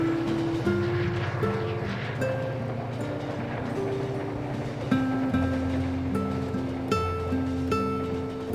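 Passenger train travelling through Boseong in southern Korea in spring, a steady rumbling ride with rhythmic wheel clatter and shifting tonal whines and hums from the carriage.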